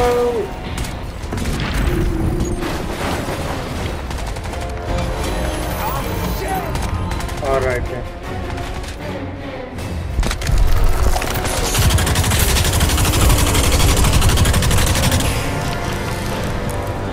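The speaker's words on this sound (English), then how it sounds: "This big ass robot is having a hard time dealing with this K-bolt gun as well." Heavy K-bolt gun fire pours into a huge robot in the shooter game Crysis 2, a dense, loud, continuous barrage of booming shots and mechanical clatter, with a voice speaking over the action.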